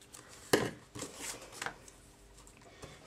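Scissors cut a length of ribbon off the roll at a scrapbooking table, making a few quiet close snips and rustles, with one sharper snip near the start.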